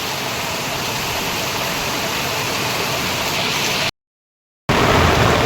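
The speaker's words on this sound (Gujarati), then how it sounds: "જબરજસ્ત વરસાદ ચાલી રહ્યો છે" A loud, steady monsoon downpour in Surat roars with dense, unbroken hiss, cutting out briefly before resuming just as heavily.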